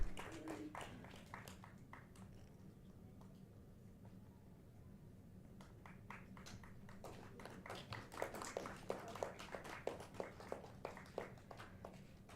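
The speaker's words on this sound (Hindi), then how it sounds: "जोरदार तालियां हो जाएं" Quiet, scattered hand clapping from an audience honouring a performing artist at a cultural festival, sparse claps early, a lull, then denser clapping that builds over the last few seconds.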